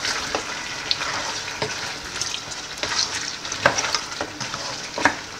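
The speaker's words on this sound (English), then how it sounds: "Again, you stir." Stew stirred in a cooking pan with herbs, giving a soft bubbling sizzle broken by repeated spoon scrapes and light clinks against the pan at an uneven rhythm, close and moderately quiet.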